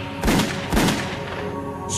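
A dramatized reenactment of gunshots fired aboard a Pacific Southwest Airlines plane: two loud, sharp booming shots about half a second apart, each trailing off into a low rumbling decay.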